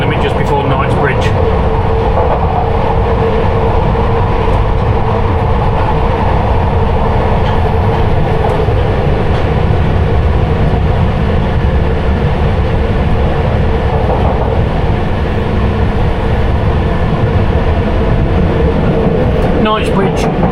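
London Underground Piccadilly Line train running toward Knightsbridge, heard from the rear cab: a loud, constant rumble and rattle of wheels and motors throughout, with a few sharp clicks near the start and end.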